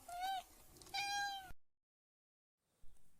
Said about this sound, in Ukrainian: Так, це маленьке кошенятко